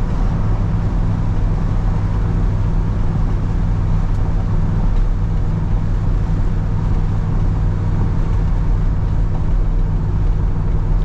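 A 1970 Oldsmobile Cutlass SX cruising down the road, its engine and tire noise forming a steady, loud low drone that holds evenly throughout with no talking.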